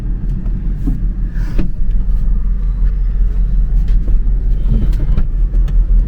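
A Maruti Suzuki car pulls up, its low engine rumble and road noise steady and fairly close throughout, with no talk over it.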